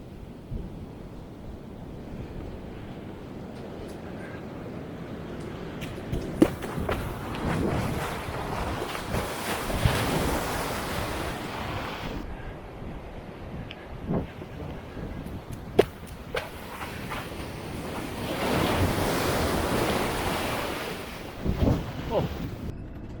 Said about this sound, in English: Man, so much water moving.